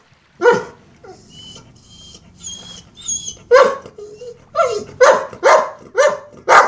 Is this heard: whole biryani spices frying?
no